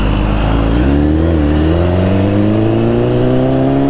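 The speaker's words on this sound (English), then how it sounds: "Give y'all a little tunnel rev action right here." A BMW 1000cc motorcycle revs inside a tunnel, its engine droning loud and steady with a brief dip, then climbing in pitch, the roar echoing off the enclosed walls.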